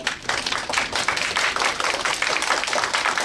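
An audience at a council meeting breaks into clapping, a dense, steady patter of many hands, fairly loud and close, lasting the whole stretch with no talk over it.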